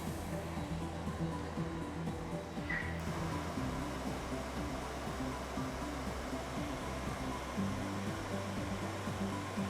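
A MultiCam CNC router runs its homing cycle, lifting the dust collector and moving in X and Y to find zero, giving a steady loud mechanical whir with shifting motor tones throughout and no voices.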